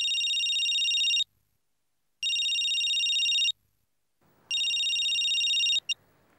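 An electronic telephone ring sounds in three long bursts separated by pauses, loud and close, with faint room noise creeping in near the end.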